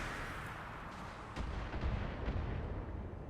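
A PPC shot fires in the Battletech beta during a light-mech battle against a Centurion, a heavy booming blast that swells about midway through and rumbles on, with no talk over it.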